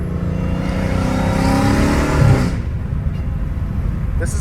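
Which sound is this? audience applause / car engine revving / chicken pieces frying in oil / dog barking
car engine revving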